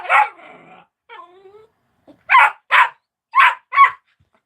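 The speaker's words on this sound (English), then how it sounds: "Right now she's barking at everything and anything." A young puppy yips and whines, then lets out four high, sharp barks in two quick pairs, close and loud.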